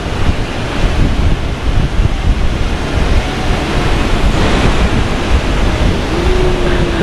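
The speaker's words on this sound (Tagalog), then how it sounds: "Malakas ang hangin." Strong wind roars steadily across the microphone with a constant broadband rush, gusting slightly throughout, with no voices.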